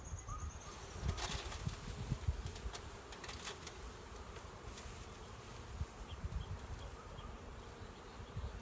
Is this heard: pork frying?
no